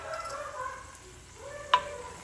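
Melted ghee sizzles softly in a pan, a faint steady fry with a brief clink of utensils near the end.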